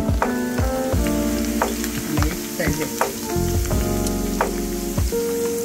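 Curry leaves frying in hot oil for Telugu-style peanut pakodi, a steady close crackling sizzle with sharp spitting pops and light stirring clinks throughout.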